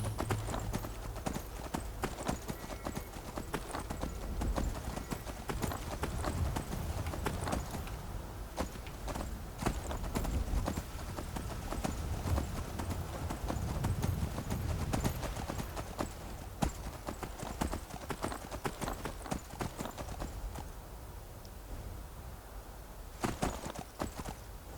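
Horse hooves clip-clop steadily while riding in the video game Skyrim, a continuous rapid trotting rhythm that runs close and fairly loud through the whole stretch, with faint talk barely present.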